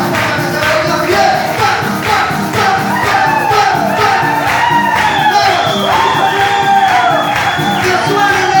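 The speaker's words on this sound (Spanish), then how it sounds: "¡Que suenen esas palmas!" Congregation clapping along through a lively Spanish-language worship song at an evangelical church service, steady rhythmic palmas blending with singing and loud music, with crowd shouts and whoops rising throughout.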